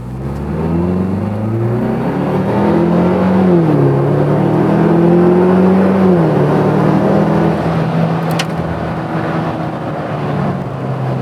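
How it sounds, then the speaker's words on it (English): A Ford Bronco's 2.3-liter engine revs up and holds through a loud, throaty MagnaFlow sport exhaust with louder muffler and pipes, pitch rising and falling, close and steady with no talking. "it takes a lot to make the smaller motor sound bigger, which the Street Series does a good job"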